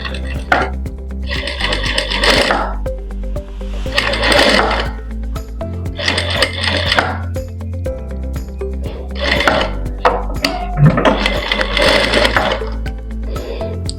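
A sewing machine stitches piping onto a blouse in several bursts of fast mechanical whirring and clatter, separated by short pauses and handling noises, loud and close.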